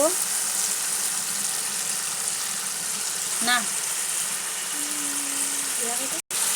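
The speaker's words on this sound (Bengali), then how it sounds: "এখন ভালো করে কষিয়ে নেব" Spices sizzle hard in a pan with a splash of water as they are stirred and cooked down, a constant close hiss broken by a brief clink and scrape, a short squeak and a sudden clatter near the end.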